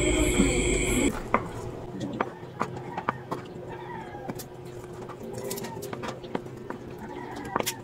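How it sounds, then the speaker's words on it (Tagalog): A knife taps sharply through tofu on a cutting board in a series of irregular close cuts, with birds cooing in the background and a voice talking over it. "tayo po ay naghihiwa na po ng tokwa"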